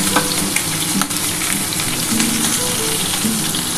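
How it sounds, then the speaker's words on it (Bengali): A katla fish head fries in hot oil with a loud, dense, continuous sizzle and crackle, close up and steady, with faint stirring scrapes underneath. "আমার মাছের মাথাটা কিন্তু ভাজা হয়ে যাচ্ছে।"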